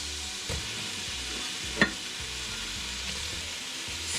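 Shrimps fry with a steady loud sizzle in a hot pan alongside onion and garlic, and a utensil knocks and stirs a couple of times, close with no talking.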